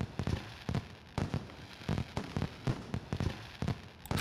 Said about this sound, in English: Looks like fireworks.